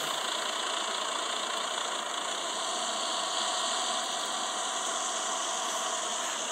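A loaded truck's diesel engine drones steadily from inside the cab, a constant close hum with no change in pitch and no talking over it.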